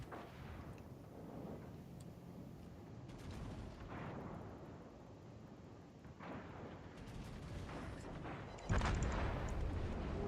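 Naval gunfire in World of Warships, with rolling low booms and rumbling salvos under a continuous battle din and a heavier, louder blast near the end.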